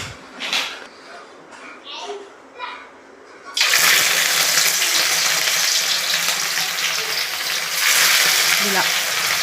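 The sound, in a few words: fish pieces frying in oil in a pan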